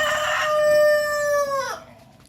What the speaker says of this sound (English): Hope you like the chickens,